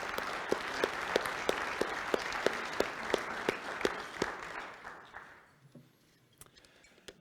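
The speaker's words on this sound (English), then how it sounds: "Please join me in a round of applause welcoming our new Rotarians." Applause from a Rotary club meeting audience welcoming new members, a dense wash of many hands with sharp individual claps standing out, fading away to quiet near the end.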